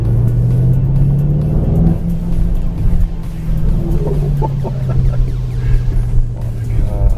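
A Bentley Continental GT V8 S engine rumbles steadily at idle with a few throttle blips and revs rising and falling, loud and close, with faint voices underneath.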